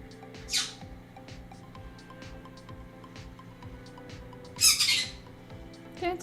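A pet bird squawks in two sharp, loud bursts a few seconds apart, with small chirps between them over a faint steady background.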